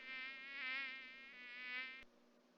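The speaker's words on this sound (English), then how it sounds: "So up next we have a mosquito swarm" A Minecraft Twilight Forest mosquito swarm drones with a steady, high, whining buzz that wavers slightly in pitch for about two seconds, then cuts off abruptly with a click.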